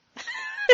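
A house cat gives a single short meow up close, a brief tonal call ending in a sharper accent.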